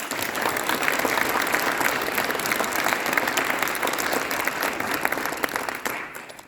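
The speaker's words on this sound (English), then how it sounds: "let's give a round of applause to all the elected officials" A luncheon crowd applauds elected officials, a dense and even roar of many hands clapping at steady volume that holds throughout and tapers slightly at the very end.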